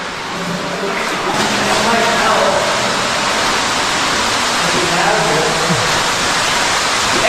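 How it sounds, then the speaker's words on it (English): A waterfall roars ahead on a hike, a broad steady rushing wash of falling water that fills the whole scene, with voices of hikers talking faintly beneath it. "There's like a waterfall up ahead."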